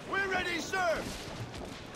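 Ship cannons fire in a naval battle in Assassin's Creed 4 Black Flag, heavy booms rumbling in the distance beneath overlapping crew voices and shouted dialogue.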